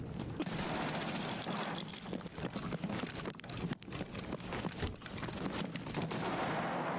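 A video game firefight crackles with scattered gunshots and short bursts of automatic fire, irregular bangs at varying distances over a busy background of battle noise, with no one talking.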